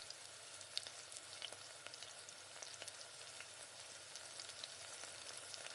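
Carrots being sautéed with masala in a pan, giving a soft, steady sizzle and crackle with light stirring scrapes throughout, fairly faint and with no voices.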